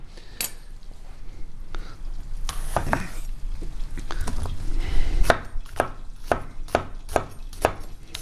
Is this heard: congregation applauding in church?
no